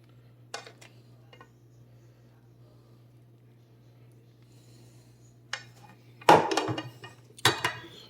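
Metal utensils scrape and clatter against a pan as chicken peperonata is scooped out onto a plate, a few sharp clinks spaced over a quiet hum, louder toward the end.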